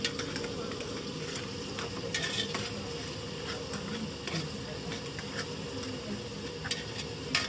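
Onion with ginger and garlic paste fries in a pan in a hostel kitchen, giving a steady close sizzle with frequent scraping and clicking of the stirring utensil.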